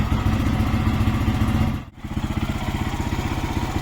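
A Lifan KPX250 motorcycle fitted with a NIBBI PE28 carburetor warms up after a cold start on choke, its single-cylinder engine chugging close and loud, briefly stumbling before settling into a steady, rapid idle pulse.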